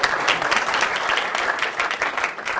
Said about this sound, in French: Il faut pas applaudir aussi ça.